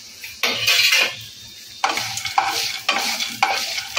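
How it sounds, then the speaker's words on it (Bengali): Cashews and peanuts fry with ginger and green chilli in a pan for lemon rice, loud close scraping strokes of a spoon stirring in repeated sweeps over a steady sizzle. "এখন কাজু আর চিনাবাদামটা এর মধ্যে দিয়ে দিলাম।"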